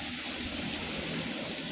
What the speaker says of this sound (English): Into the water fountain.